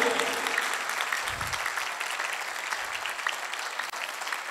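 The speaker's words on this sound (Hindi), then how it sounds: "ताली बजाओ खुदावंद के नाते" Church congregation clapping during a Sunday Mass homily, a steady continuous wash of applause from many hands that runs through the whole moment without a break.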